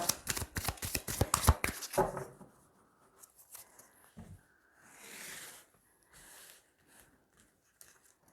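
Tarot cards shuffled by hand in a rapid burst of crisp, riffling flutters for about two seconds, followed by quieter scattered rubs, slides and soft card handling.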